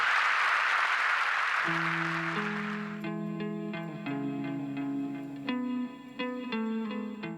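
Studio audience applause fills the first seconds and then drops away under a sustained melodic music passage with reverb. The music carries on to the end.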